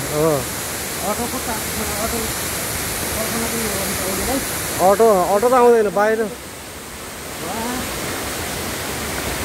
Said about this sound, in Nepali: अति सुन्दर झरना है यो चाहिँ।